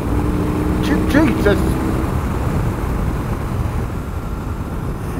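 A BMW R18 motorcycle cruises around 60 mph in fourth gear at about 2,850 rpm, a steady close engine drone with road and wind rumble, and a man briefly exclaims over it.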